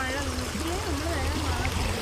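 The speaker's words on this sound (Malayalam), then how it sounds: "പക്ഷേ നല്ല ഒഴുക്കുണ്ട് വെള്ളത്തിന്." Fast-flowing stream water at a fishing spot in rain, a steady, close broadband rush and gurgle filling the whole stretch, with a faint murmuring tone riding over it.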